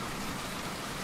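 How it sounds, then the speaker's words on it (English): Steady rain falling in the open countryside under a cold, clouded sky, a dense even hiss of drops spattering on surfaces, constant and fairly close with no pauses. "and the rain began to fall"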